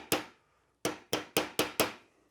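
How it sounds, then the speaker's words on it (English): Six sharp metallic hammer strikes on a retainer in a Porsche 915 transaxle ring out, one alone followed by a quick even run of five, close and crisp with no talking. "We don't want to hammer too much on this."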